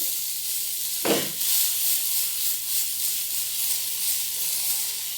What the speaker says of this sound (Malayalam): അപ്പോൾ ഉത്തപ്പം ഒഴിച്ചു കൊടുക്കാം